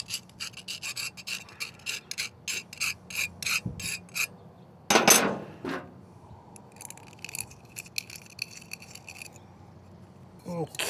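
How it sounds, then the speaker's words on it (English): A fuel pump tube is cut down with a hand tool, giving a series of short rasping, filing strokes in quick bursts, then a louder scraping burst and a few more scattered rasps and clinks, close and without talking. "I'm gonna take about 1/2 inch off the tube and see if we can get a little closer."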